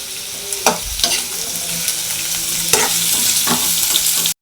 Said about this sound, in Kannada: ಈರುಳ್ಳಿ ಮತ್ತು ಬೆಳ್ಳುಳ್ಳಿನ ಆ್ಯಡ್ ಮಾಡ್ಕೊತಾ ಇದ್ದೀನಿ. ಇದನ್ನು ಸ್ವಲ್ಪ ಚೆನ್ನಾಗಿ ಫ್ರೈ ಮಾಡ್ಕೊಬೇಕು